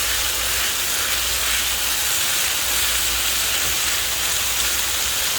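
Constant bright hissing sizzle of pork frying in a hot pan for a stir fry, steady and close throughout, with no voices.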